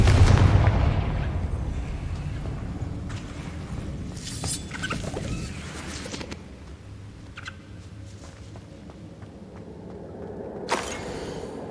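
A Confringo fire spell from Hogwarts Legacy bursts with a loud, booming blast at the start, then fades into a rumbling, crackling tail with scattered smaller pops and a brief sharp hit near the end.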